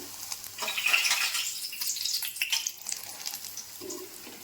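Hot oil and ghee are poured bit by bit into cooking gram flour for Mysore pak while it is stirred, giving a faint, close, crackling sizzle with soft scraping.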